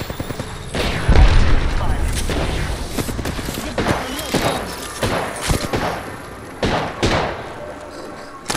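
Grenade blast and scattered gunfire in the Apex Legends shooter game, a heavy thump early on followed by repeated sharp shots and bursts at irregular intervals, with a voice talking between them.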